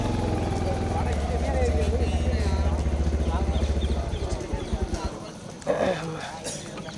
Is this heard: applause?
no